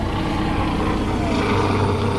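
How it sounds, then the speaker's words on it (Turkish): A helicopter passes overhead, its steady rumbling rotor and engine noise fairly loud and continuous throughout, with no talk over it. "Helikopter geçiyor, şansa gel."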